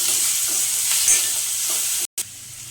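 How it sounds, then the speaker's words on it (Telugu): Curry leaves frying in hot oil make a loud, bright, steady sizzle while being stirred, close up, with a brief dropout near the end and no talking. "కరివేపాకు కూడా వేసుకున్నాము ఒకసారి కలుపుకుందాం ఇది కొంచెం ఫ్రై అయ్యేంత వరకు కలుపుకుందాం"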